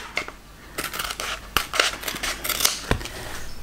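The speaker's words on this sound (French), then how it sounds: "je vais couper un carré" Scissors snip through a square of thick faux leather in a close, irregular series of crisp cuts and scrapes, with short gaps between strokes and no talking.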